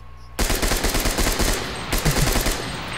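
Sustained machine gun fire in a video game, a loud, rapid continuous burst of shots lasting nearly three seconds, close and dominant, with no talking.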